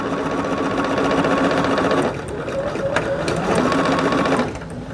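Sewing machine stitching a pieced quilt block, a close, continuous mechanical whirr that drops to a lighter hum about halfway and then picks up again before easing off.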